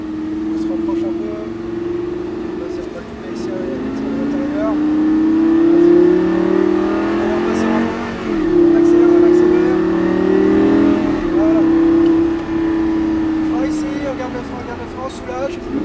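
Lamborghini LP560 engine revving and blipping through downshifts at the end of braking on a cone-marked driving course, loud and continuous with rising and falling pitch, while an instructor speaks over it.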